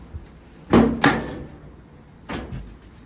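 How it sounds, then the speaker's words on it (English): Metal door of an LG, Samsung or Kenmore dryer slid onto the dryer body during repair, giving two close, sharp clunks followed by a softer scraping knock a moment later. "I slid the door onto the body"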